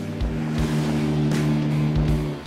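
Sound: off-road vehicles driving past on a trail

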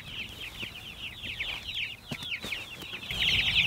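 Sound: chickens clucking

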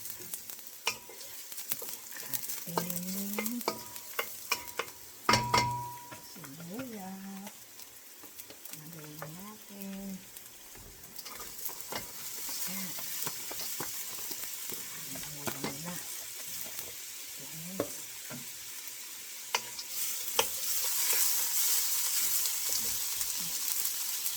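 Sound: stirring onions in a pan

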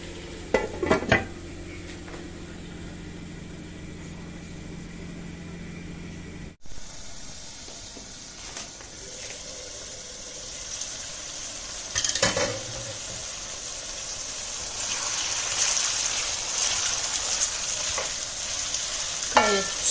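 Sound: saç kavurma meat frying with tomatoes in a pan

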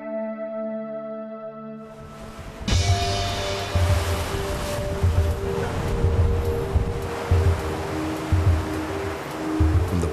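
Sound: open ocean waves near Guadalupe Island, Mexico

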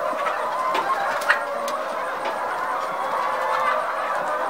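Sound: Benin-bred laying hens clucking on a farm

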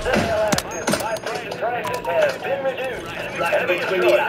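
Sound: gunshots in the video game Call of Duty

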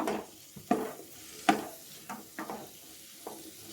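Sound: cauliflower frying and being stirred in a pan

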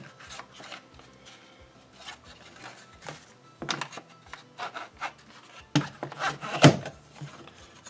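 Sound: screw being tightened on a GPS mount bracket

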